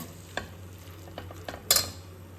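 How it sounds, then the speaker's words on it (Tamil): Beetroot with masala, oil and ghee is stirred in a pan, making a few soft scrapes and taps over a low sizzle, ending in a sharper clatter of the utensil against the pan. "நல்லா கலப்போம் மசாலா கூட நல்லா மிக்ஸ் ஆகணும்"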